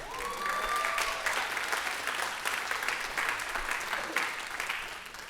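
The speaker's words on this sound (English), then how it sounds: "Can I get a round of applause for Danny Lee?" A crowd applauds steadily for several seconds, dense clapping filling the room and slowly tapering near the end.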